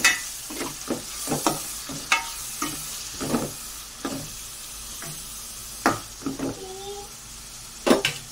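Colocasia being stirred in a pan with turmeric and salt: a string of close spoon scrapes and clatters against the pan over a soft frying sizzle, with a short faint tone near the end.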